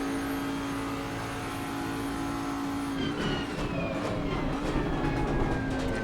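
A 2020 Bentley GT3 race car engine in Assetto Corsa Competizione holds full throttle in sixth gear up Eau Rouge at Spa, giving a loud, sustained drone that rises slightly in pitch, with no talking.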